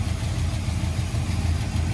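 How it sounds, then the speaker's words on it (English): A 1981 Oldsmobile Delta 88 engine idles steadily and close by, a low, even rumble with a slightly fast idle and no voices over it. "It's idling pretty good now."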